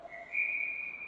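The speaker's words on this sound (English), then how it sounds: "And a whistle." Referee's whistle at a youth girls' ice hockey game, a single sustained shrill blast lasting about a second over arena noise.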